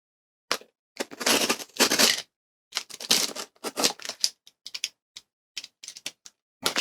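A knife slicing into a cardboard shipping box, heard as a series of sharp, crackly cuts and tears in irregular bursts, close and fairly loud, with short pauses between strokes.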